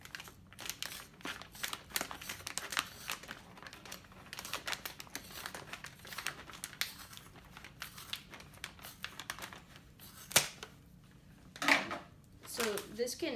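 Splint material being cut to length, a busy run of close crinkling, snipping and handling noises with a few sharper snaps near the end, and a voice talking faintly in places.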